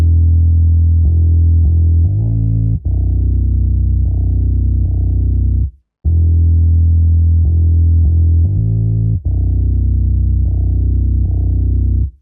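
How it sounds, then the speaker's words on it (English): Distorted electronic bass line, made rough and gritty by a fast distortion effect with EQ trimming the harsh range, repeating a steady loud phrase in two matching halves with a brief gap midway; no voices. "I have a pretty fast distortion, basically to just make the bass a little bit more rough"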